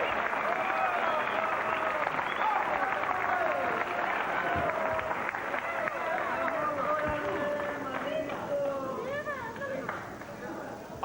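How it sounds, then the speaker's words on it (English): A crowd at the 2000 World 9-Ball Championships semifinal claps and cheers in a steady, loud roar, with excited voices and whoops rising through it. "This crowd is going crazy."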